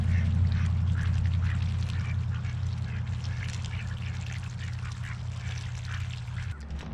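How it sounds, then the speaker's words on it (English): Ducks waiting for feed keep up a busy chorus of quacks, close and fairly loud over a steady low engine-like drone that cuts off near the end. "I got these ducks over here chomping at the bit."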